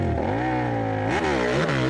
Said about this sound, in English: He's revving up, clicks it into second.